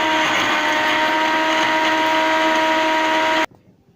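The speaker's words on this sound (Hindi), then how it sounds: "इन 2 चीज़ों को हम पहले अच्छी तरह से ब्लेंड कर लेंगे।" A blender whirs through dates, sugar and a little milk at full speed: a loud, steady motor whine with a constant pitch, running close and uninterrupted for over three seconds before cutting off abruptly into quiet.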